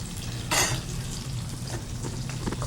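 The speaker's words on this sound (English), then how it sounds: "I'm going to add the broccoli rabe to the boiling water." Broccoli rabe with the stems trimmed, dropped into a pot of boiling water: a steady bubbling hiss with a brief loud splash near the start, close by and with no talking.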